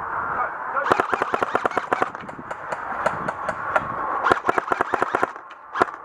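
Rapid bursts of airsoft gunfire crackle close by during an outdoor game at The Garrison, Aldershot, in dense volleys of sharp snaps over a breezy background, with a distant voice faintly present.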